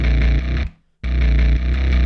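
A thick, distorted synth in a Doom Eternal-style bass patch plays a buzzing, harmonically dense note that cuts out briefly to silence, then returns just as loud.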